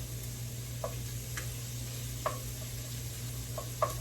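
Bacon and onion sizzling in a pan over medium-high heat, a steady low crackle with a few sharp clicks of a utensil against the pan, alone and fairly quiet.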